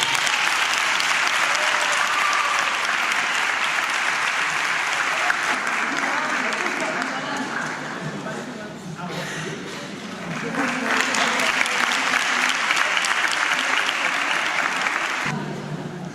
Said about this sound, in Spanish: un fuerte aplauso para los graduados y para todos los profesionales de EFA Torreladua